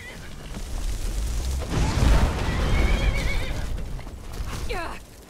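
In a fantasy role-playing video game, a horse under attack whinnies loudly near the end, after a stretch of rumbling impacts and combat noise. Someone talks over the action.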